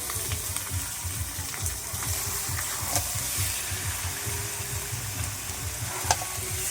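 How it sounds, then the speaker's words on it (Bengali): Chicken sizzles in a pan of spice paste fried until red, a constant dense frying hiss with rhythmic stirring scrapes and an occasional sharp clink. "মাংসর মশলাটা আমার তৈরি হয়ে গেছে, পুরো লাল লাল করে ভেজে নিয়েছি। এবার দেবো মাংস।"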